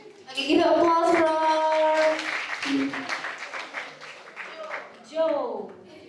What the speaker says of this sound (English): Okay, give applause for